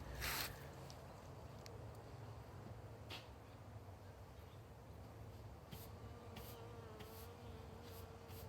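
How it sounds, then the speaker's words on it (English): Bees buzz around flowering borage in a permaculture garden, a faint, soft hum with a few brief louder passes close by. "You can see the bees absolutely love the borage."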